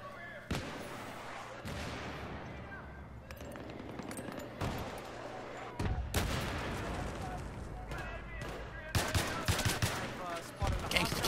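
Gunfire in the shooter Battlefield 3 on a battlefield: repeated loud sharp shots and bursts, some close and some farther off, with rumbling impacts and a player's voice talking over the action.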